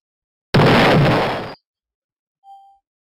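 A single loud, close shotgun blast fired at a sporting clays target, then silence and a brief faint tone.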